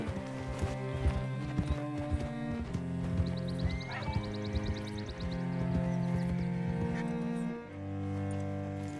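Horse hooves clip-clop steadily along a path in the Red Dead Redemption 2 video game, a loud rhythmic beat set over a continuous bed of game music.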